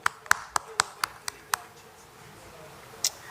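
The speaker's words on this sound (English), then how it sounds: "Give a big clap to them." A panel audience gives a short run of separate claps, about seven sharp evenly spaced hits over a second and a half, then a pause and one last clap, fairly close and crisp.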